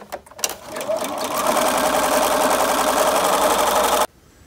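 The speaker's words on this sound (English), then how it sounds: "And I tend to just strip sew these together. It just goes faster." A sewing machine strip-sews apron fabric pieces for a kid's apron, a steady, fast mechanical whirring stitch that runs close and loud for about four seconds, then stops abruptly.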